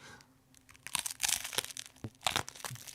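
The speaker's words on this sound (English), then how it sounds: "Such a satisfying crunch." Crunchy bites into a ham and cheese sandwich on dry bread, close and loud with several crisp crackling, tearing bursts and short chewing gaps, no talking.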